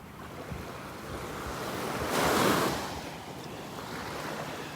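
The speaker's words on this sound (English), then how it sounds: "more beautiful place to be in the morning than here at the beach in North Naples" Ocean surf rolling onto the beach at Delnor-Wiggins in North Naples, Florida, a continuous broad wash with one wave swelling louder in the middle, mixed with light wind rumble on the microphone.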